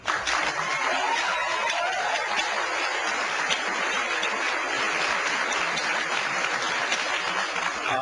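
Continuous applause from a large crowd at a political event, a wash of clapping that holds steady throughout without letting up.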